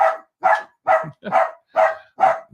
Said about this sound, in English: I can't really fault him for barking at a dog that's wearing a raincoat.